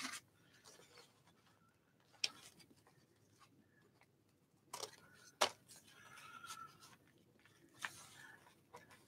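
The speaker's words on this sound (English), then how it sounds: "Let's just snip them off." Scissors snip paper scraps for artist trading cards at a craft table, a few sharp separate cuts scattered through an otherwise quiet stretch.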